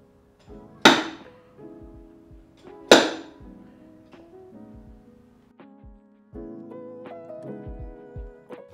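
Light hammer taps on a car body panel while levelling a dent with cold glue paintless dent repair: two sharp, bright metallic strikes stand out near the start, followed by softer knocks and faint ringing, with no talk.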